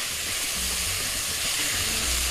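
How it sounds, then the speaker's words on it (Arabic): Spinach sautéing in a pan with garlic, peppers and mushrooms gives a steady, close hiss and sizzle of steam that runs unbroken and fairly loud throughout, with no voices. "واشوح كل ده سبانخ مع الثوم والفلفل"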